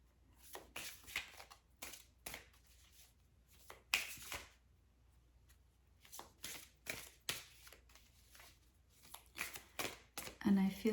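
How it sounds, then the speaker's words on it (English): Templar Tarot cards shuffled and drawn by hand, a run of short crisp riffling bursts with pauses between them, close and fairly quiet, with a voice speaking at times in between. "I'm going to draw out of my Templar Tarot only uprights."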